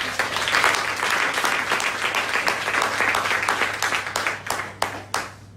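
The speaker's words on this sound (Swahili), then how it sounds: "Tumpigie makofi." An audience claps for Alphonse after he is introduced at a mindset transformation seminar, a dense, steady round of applause that thins into a few scattered claps before it stops.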